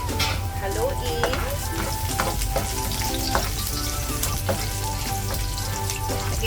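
Garlic stir-frying in hot cooking oil in a pan, a loud continuous sizzle with scattered pops and stirring scrapes, close up.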